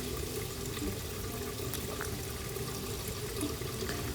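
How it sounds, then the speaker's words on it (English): Tap water running steadily into the drain chamber of a Miele dishwasher that keeps draining, a continuous soft splashing flow heard close and alone throughout. "I'll fill the chamber with water, and then I'll turn it over and let the water carry the debris out."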